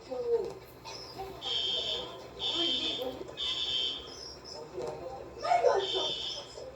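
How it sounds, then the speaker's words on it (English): Fire alarm sounding during a fire drill: a loud repeating electronic buzz in bursts about a second long, separated by short gaps, with people talking over it. "they're ignoring the fire alarm"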